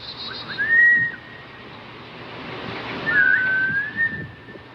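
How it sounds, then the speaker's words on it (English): Two thin, wavering whistled phrases, each rising then holding a steady pitch, separated by a pause, over a faint background hiss. "This whistling is how they communicate."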